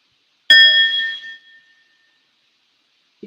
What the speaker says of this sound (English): And I also have a bell